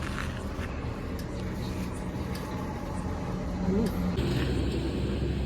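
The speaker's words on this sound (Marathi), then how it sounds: "फक्त गाड्या इथून येतात आणि जातात." Vehicles passing along a road near a home make a steady, moderate traffic rumble, with a brief tonal hum near the end and faint background activity.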